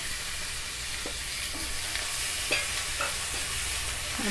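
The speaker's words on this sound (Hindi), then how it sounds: "बारीक चॉप किया हुआ शिमला मिर्च डालेंगे" Finely chopped capsicum fries in a pan with onions for pav bhaji, producing a continuous close sizzle with occasional light stirring clicks and scrapes, no voices.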